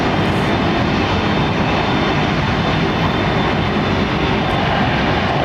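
A large airliner with Pratt & Whitney PW4 engines taxis at Heathrow, its engines producing a loud, constant roar that holds steady throughout with no break and no voices.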